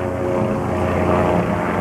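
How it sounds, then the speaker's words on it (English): A helicopter circling over a house makes a steady, loud engine drone with a low throbbing rotor pulse, continuous and unchanging, close overhead. "I've had this helicopter here."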